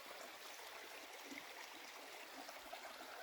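A mountain stream flows beside the Appalachian Trail in the 100 Mile Wilderness, a steady, faint rushing hiss of water with no voices.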